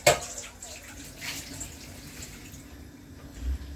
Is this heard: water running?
yes